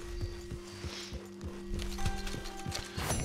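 Horse hooves clip-clopping at a steady walking pace in the video game Red Dead Redemption 2, regular thuds repeating about every half second under a low droning game soundtrack.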